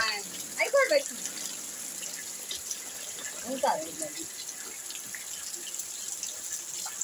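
Water runs into a bucket and a pot set out to collect it, a faint steady hiss continuing throughout while quiet voices briefly talk over it.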